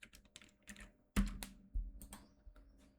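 Keys clatter on a computer keyboard while an SSH host command is entered, a few scattered taps followed by two louder, sharper strokes, close and alone without any voices.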